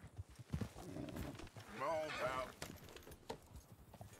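A horse in Red Dead Redemption 2 whinnies in a shrill, wavering burst, preceded and followed by hoof thuds and soft rustling.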